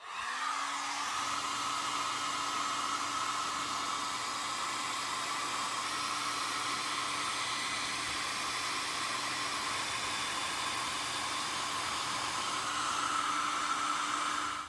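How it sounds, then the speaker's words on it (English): A hair dryer runs steadily and loud, blowing hot air to shrink heat-shrink tubing over a wire connector, with an even whooshing hum and a steady tone throughout, alone and without talk. "we put the shrink tubing in place, and then we grab a hairdryer"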